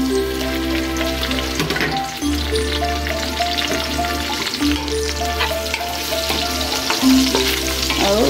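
Onion frying in a pan of oil for a Filipino-style corn and shrimp soup, with a steady, loud sizzle and crackle throughout and occasional stirring scrapes.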